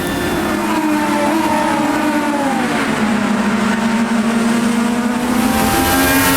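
An IndyCar race car engine in a racing video game drones loudly and continuously, its pitch sliding down as the driver shifts toward fifth gear, with the note held steady and no talking.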